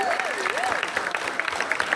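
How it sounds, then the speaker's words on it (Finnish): Applause from a youth evening crowd at a Finnish mission festival in Ryttylä, with a hand held voice urging them on over the clapping and a sliding musical tone briefly at the start. "Ja aplodit taivaan isälle! Kovempaa! Täysiä!"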